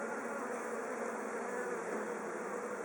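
Angry honeybees buzz continuously during a hive inspection, a dense, steady swarm drone close by with no voices over it.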